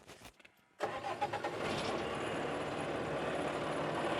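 A tractor engine on a land-clearing job starts up and settles into a steady, loud drone as the PTO engages. It holds a constant near rumble with no talking.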